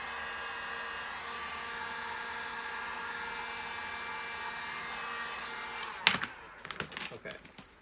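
A steady, whooshing heat gun drone runs for several seconds while warming vinyl wrap on a Toyota MR2 front bumper, then cuts off and gives way to scattered rustles and handling noises.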